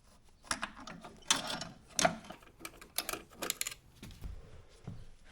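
A wrench works loose a 1/2 inch fitting on the master cylinder of a 1967 Jaguar E-Type, giving quiet, close metallic clicks and scrapes in irregular bursts, with short pauses between turns.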